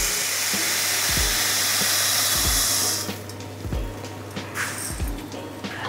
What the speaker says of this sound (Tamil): இப்போ வந்து நான் உளுந்தை வந்து பவுடர் பண்ண போகிறேன்.